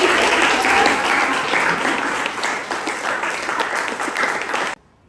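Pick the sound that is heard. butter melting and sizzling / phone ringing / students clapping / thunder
students clapping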